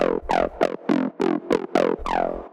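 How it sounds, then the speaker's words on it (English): A squelchy acid synth bass line in the style of a TB-303, made from a Serum preset, plays a quick run of eight plucky notes with resonant, sweeping filter tones, alone and clear. "get this really typical 303 sound"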